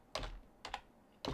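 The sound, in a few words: typing on a new wireless computer keyboard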